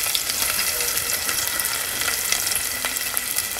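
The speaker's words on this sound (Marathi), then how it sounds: "हे जे 2 बारीक चिरलेले कांदे आहेत ना ते घालून घेऊया" Two finely chopped onions hit hot ghee in a pan for pulao and fry with a steady, close, crackling sizzle that holds evenly throughout with no talking.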